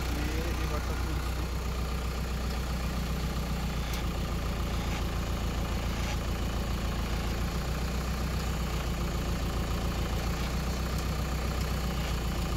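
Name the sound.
tractor engine running while lifting with repaired hydraulic pump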